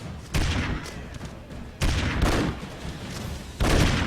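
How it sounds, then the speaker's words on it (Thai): Bomb blasts and gunfire burst in the run-and-gun video game Broforce, coming as three loud, sudden explosive bursts with crackling tails spaced about a second and a half apart, with no talk. "เปิดด้วยระเบิดครับ"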